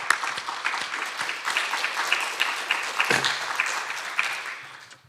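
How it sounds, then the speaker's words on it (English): A congregation in a church sanctuary gives a warm round of applause, many hands clapping with a loose, uneven rhythm that slowly thins and fades toward the end. "I'd like for us to give you a round of applause"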